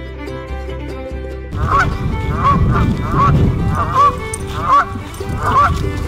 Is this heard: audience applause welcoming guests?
no